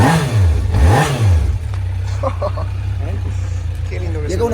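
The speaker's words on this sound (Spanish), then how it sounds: "La moto suena" A 1985 Suzuki GSX 550 four-cylinder motorcycle, restarted after fifteen years unused, revs up and down twice before settling into a steady, throbbing idle, close and loud, with faint clatter over it.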